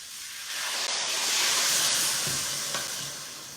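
Vegetables including broccoli in a hot pan after a splash of water, a loud broad steaming hiss and sizzle that swells and then slowly eases over a few seconds, close up with no talking.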